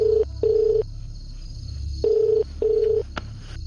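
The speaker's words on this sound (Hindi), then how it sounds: "मनोहर को फोन लगा जल्दी।" A telephone call rings out through the earpiece: loud, steady ringback tones in two double-pulse pairs separated by a pause, over a low background hum and a brief click.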